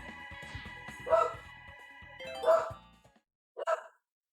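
A dog gives three sharp barks spaced about a second apart, moderately close, over a faint background hum.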